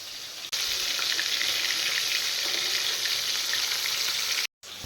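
Rohu fish sizzles steadily in hot oil, a loud, even crackling hiss that continues without a break, close up.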